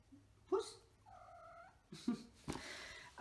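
Pet cat meowing and trilling close by indoors, several separate vocalizations including a drawn-out wavering mew and sharper short calls, with quiet room noise between them.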